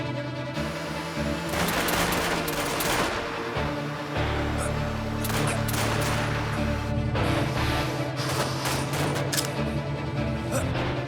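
Video game gunfire in a shooter, scattered shots and crashing impacts over a steady background of music and effects, fairly faint, with some speech mixed in.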